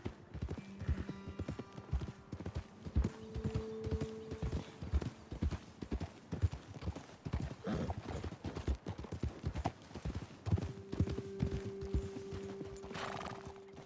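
Steady clip-clopping of horse hooves at a walking pace in Red Dead Redemption, with a horse whinnying a couple of times over the footsteps.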